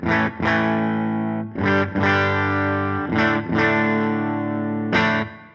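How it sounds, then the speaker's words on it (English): Electric guitar, a Stratocaster with humbuckers played through a Helix modeled Fender Twin amp, strums several sustained chords with a slightly driven, chorused tone, brief gaps between rings. "So I've got a Strat with humbuckers running into Helix's model of a Fender Twin."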